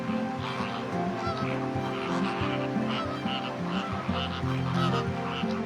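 Greater flamingos at Nemmeli wetland honk in a dense, constant flock chorus, many goose-like calls overlapping loudly without pause.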